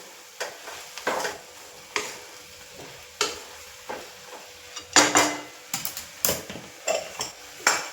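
Fenugreek greens are stirred in a pan, with a spatula scraping and knocking at a loose, irregular rhythm over a low background sizzle.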